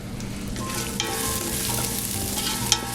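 Garlic and shallots fry in a pan for cioppino, giving a close, even sizzle with soft stirring scrapes and a small clink near the end.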